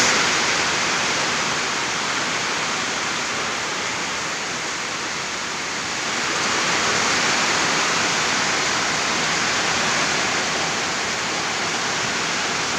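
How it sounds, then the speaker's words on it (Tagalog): Heavy typhoon rain pouring steadily, a dense, loud hiss that barely changes, swelling slightly partway through. "Grabe lakas ng ulan,"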